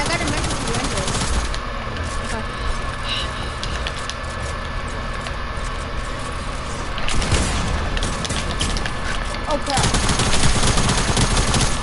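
Gunfire crackles through a shooter game match in steady automatic bursts at moderate volume, mixed under players talking throughout and swelling louder near the end.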